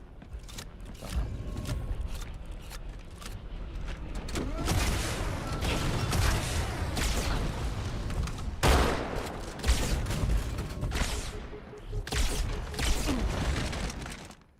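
Gunfire in Halo 2, a busy spread of shots and bursts over mechanical clatter and creaks, moderately loud and constant, with a player talking now and then.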